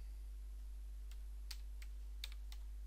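Computer keyboard keys clicked while typing a title, a few sparse, soft keystrokes over a steady low hum.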